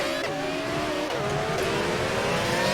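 Race car engines roar in a classic-league online racing game at the Italian Grand Prix, loud and continuous, with rising and falling revs as cars accelerate and shift gears.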